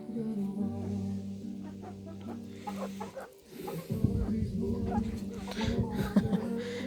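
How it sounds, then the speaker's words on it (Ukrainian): Hens clucking close by in a domestic flock, with repeated low throaty clucks and murmurs under a voice speaking. "Курочки мої."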